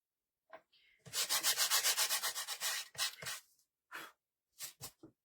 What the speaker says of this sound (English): when I sand these, it just helps for the paint to stick a little easier